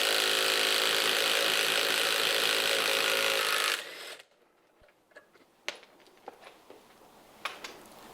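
A Ryobi impact wrench works on a stuck, badly damaged nut, giving a loud, steady mechanical whir for about four seconds that then stops, followed by quiet scattered clicks and knocks of handling.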